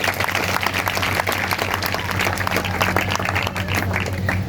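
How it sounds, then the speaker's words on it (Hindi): A Sunday church congregation claps loudly and continuously, a dense roomful of hands with a faint hum running underneath. "आई है तो जोर से तालियां बजाएंगे।"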